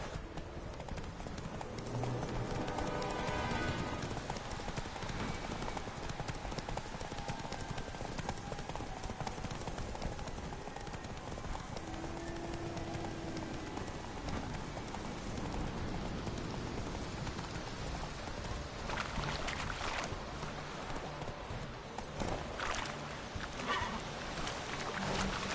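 Roach, the horse in The Witcher 3, gallops with a steady, rapid run of hoofbeats that carries on without a break under dense, continuous game ambience.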